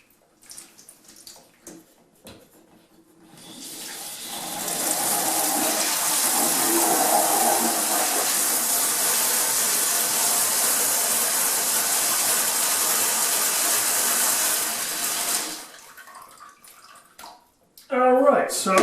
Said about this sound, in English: I'm going to open up that valve full throttle